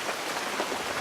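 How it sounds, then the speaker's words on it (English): Rain patters on outdoor surfaces near a grill, a dense, continuous hiss of drops, close and steady throughout a short stretch without voices. "Sorry about the rain, the background noise,"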